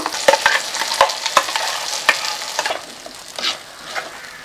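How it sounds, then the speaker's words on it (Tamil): Ground masala paste sautéing in hot oil in a home kitchen, a loud close sizzle broken by repeated sharp spoon scrapes and stirring knocks in an uneven rhythm. "நம்ம அரைச்சி வச்சுக்கிற மசாலா பேஸ்ட்டையும் சேர்த்து நல்லா எண்ணெயில் வதக்கிடலாம்"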